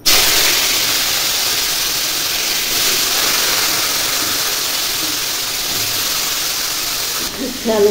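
Steam hisses steadily from a cooking vessel in a home kitchen, a loud continuous rushing noise that holds for several seconds before a brief clatter near the end.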